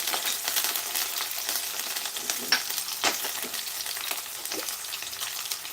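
Ridge gourd curry with tomato being stirred in a hot pan: a steady broadband sizzle with soft scrapes and clicks of the spoon against the pan.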